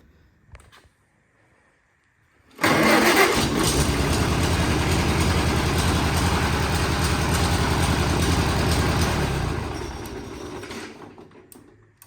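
A 1945 Farmall A tractor engine with new seals and wiring cranks and catches, then runs steadily with a loud low chugging idle for several seconds before dropping off toward the end, close by with no talk.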